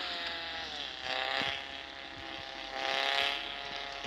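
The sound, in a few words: car driving in a video game (Car Parking)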